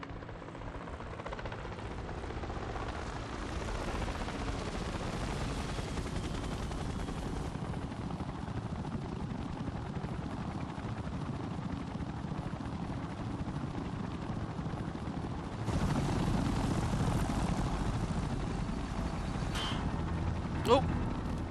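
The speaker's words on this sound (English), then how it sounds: "Chopper time!" A helicopter in the video game Secret Files 2: Puritas Cordis, a steady loud rotor thrum and engine roar that runs throughout and swells louder near the end, with a sharp impact at the close and talk underneath.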